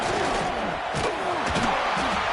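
Home crowd cheering at a college football video game, Texas at Florida, a loud continuous stadium roar with rising swells and shouts, close and full throughout.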